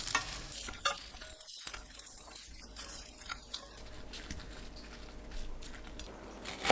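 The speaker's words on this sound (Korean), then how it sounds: "어묵을 센 불로 2분 30초 볶습니다." Fish cake stir-fries in a dry pan over high heat with no oil, making a faint, soft sizzle broken by light scraping and stirring clatter.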